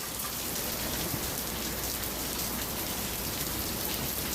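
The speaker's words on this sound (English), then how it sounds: "there is thunder, lightning, it's fucking pouring rain, it's literally slightly raining sideways" Heavy pouring rain in a thunderstorm, a dense, loud, unbroken hiss of downpour filling the whole stretch with no pauses and no voices.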